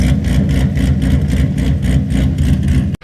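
A C6 Corvette's LS2 V8 with a choppy cam and aftermarket exhaust idles loudly and close, its lumpy, uneven rumble loping in a choppy rhythm before cutting off abruptly.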